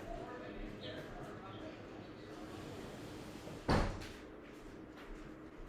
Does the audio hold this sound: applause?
no